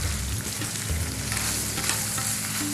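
Pork and tomatoes fry in a pan for northern Thai nam prik ong, making a dense, close sizzle with stirring scrapes over a few seconds and no speech.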